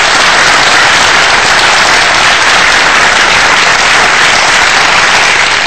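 An audience in a seminar hall in Indonesia bursts into loud, dense applause for the speaker's mother, a steady unbroken roar of many hands clapping throughout with no talk.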